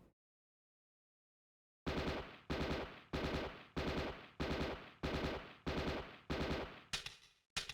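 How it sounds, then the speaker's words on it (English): Gunfire from the light gun arcade game Aliens Under Fire comes in after a silent pause as a steady run of loud, evenly spaced bursts, roughly eight in a row, and ends with a trailing shot. "by pulling the trigger once, 3 bullets can be shot at one time"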